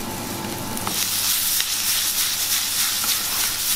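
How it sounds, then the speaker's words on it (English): Snapper fries and sizzles steadily in a hot pan in a Ghanaian kitchen, a dense continuous hiss with occasional pops, close and fairly loud, with no talking. "So my friend the chef here is making some fried snapper"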